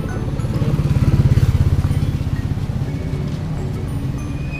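A Yamaha Aerox scooter engine turns over and runs close by, giving a loud, pulsing mechanical chug that peaks early and then settles into a steady idle.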